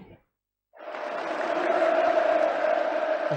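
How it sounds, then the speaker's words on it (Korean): A large crowd at a congress hall roars out sustained cheers of "manse" (hurrah), a dense, loud wall of massed voices swelling after a brief silence and holding steady. "온 대회장이 떠나갈 듯한 만세 환호성이 터져오르는 가운데"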